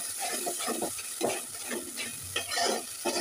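Chopped garlic and bay leaves fry in a spice paste for an egg and lentil curry, a steady close sizzle under repeated scraping stirs with no talk.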